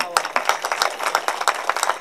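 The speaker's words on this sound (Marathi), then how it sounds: "आता डबल इकडं वाजवा." Kirtan audience clapping in quick, distinct beats, sharp individual claps falling in a brisk rhythm, close and loud, with a voice faintly underneath.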